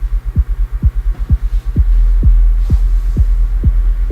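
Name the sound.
tuned electronic kick drum with LFO modulation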